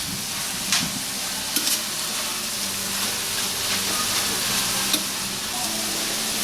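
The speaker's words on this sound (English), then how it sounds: "Gotta stir them mushrooms." Mushrooms sizzle in a pan while being stirred, a continuous close frying hiss broken by a few clacks of the utensil against the pan.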